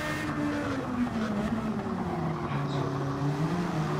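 Racing car engine in a street racing video game, a steady loud drone with shifting pitch as the car accelerates and eases off, with a hint of tyre noise throughout.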